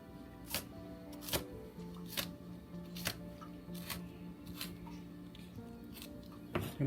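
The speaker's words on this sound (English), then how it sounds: "We just cut the root off, and then we cut it like this." A knife chops through scallions on a cutting board with their roots trimmed off, giving a steady run of about ten sharp, evenly spaced cuts close by, with no voices.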